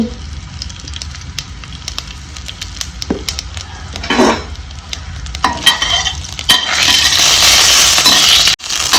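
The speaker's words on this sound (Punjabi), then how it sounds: "ਜੀਰਾ ਕੜੀ ਪੱਤਾ ਤੇ ਥੋੜੀ ਜੀ ਪਾ ਦੇਣੀ ਹਿੰਗ" Cumin, curry leaves and asafoetida crackle in hot oil, close and loud, with scraping stirs and utensil clinks before the sizzle swells into a steady hiss toward the end.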